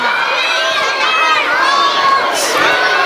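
Children in an audience at a children's and youth literary event shout and cheer together in a loud, high, overlapping din that stays steady throughout, close by.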